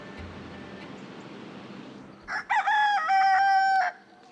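A rooster on a Central Texas homestead crows once, loud and close, a long rising-and-holding call following a couple of short clucks over a steady outdoor background hiss.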